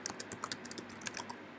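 Quick, irregular typing on a computer keyboard during an online Pokémon battle tournament game, light clacky keystrokes close up with no talking.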